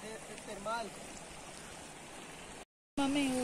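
Waterfall at Termal la Cabaña hot springs in Murillo, Tolima, a steady broadband rush of falling water heard from above, with people talking over it and a brief dropout near the end.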